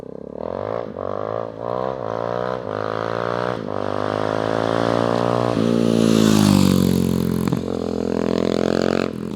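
A Suzuki DR-Z400 supermoto engine idles roughly, then revs up in a rising, throaty whine before easing back, close and loud, with a few sharp clacks along the way.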